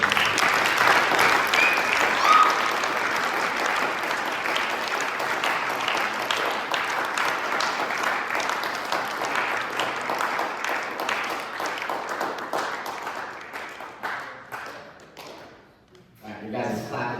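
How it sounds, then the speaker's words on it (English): Audience at a football awards event claps in sustained applause, a dense even crackle of many hands and occasional thumps that carries on for well over ten seconds before thinning and briefly dipping near the end. "Your guys' clapping is helping the time, so keep it up."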